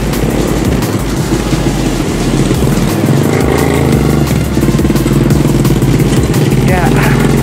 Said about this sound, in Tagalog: Narinig mo yung kabyos.